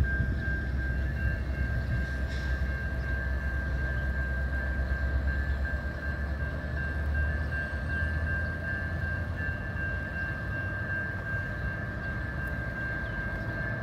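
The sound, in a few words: local train passing a railway crossing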